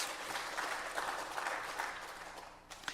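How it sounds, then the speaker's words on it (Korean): Church congregation at a Wednesday worship service gives a sustained round of applause, evenly loud with a few sharper claps near the end. "우리 그 주님께 영광의 박수 올려드리겠습니다."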